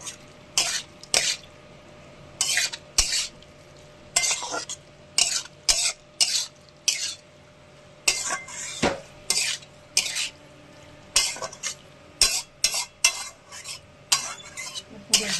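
Steamed taro stolons being stirred and fried with spice paste in a pan, heard as repeated scraping spatula strokes in irregular bursts over a quiet background sizzle.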